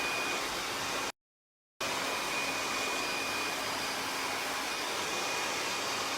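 A hair dryer blows steadily while drying a man's short haircut, a loud continuous airy roar with a faint high whine, briefly cut off for a moment before resuming.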